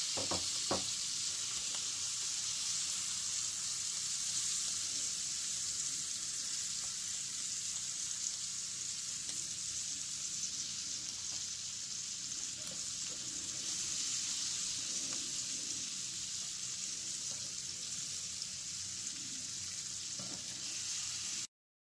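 Prawns sizzling on a hot Weber kettle grill, a steady, dense hiss of frying that runs unbroken and close throughout, with a couple of faint clicks and no talking.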